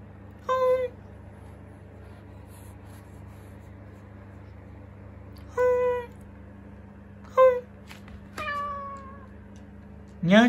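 A cat gives four separate drawn-out meows, strained and wailing rather than a plain mew, fairly close, over a steady low background hum.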